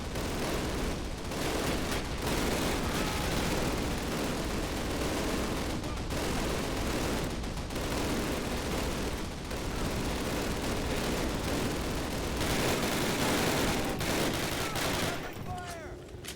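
Dense, continuous battlefield gunfire from a Call of Duty video game, with heavy rapid shooting and booming weapons layered into a loud, unbroken roar lasting throughout, with faint voices mixed in.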